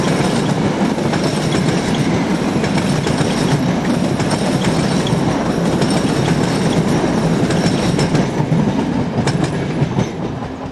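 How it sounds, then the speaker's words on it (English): Italian electric locomotive 632048 hauling coaches as it slows into Grizzana station, a loud, steady rumble of wheels on rail with a clattering rhythm and faint metallic squeals, continuous throughout. "Here, 632048 slows for the stop at Grizzana on a train for Bologna."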